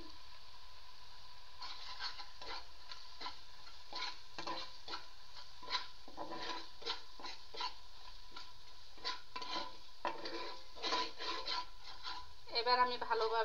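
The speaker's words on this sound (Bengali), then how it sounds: "ভালোভাবে মশলাটা আবার কষাবো একটু একটু করে" Spice masala with garam masala powder and salt is stirred and fried in a pan for an egg curry, with soft scraping strokes and light sizzling in an irregular rhythm, a louder clatter near the end.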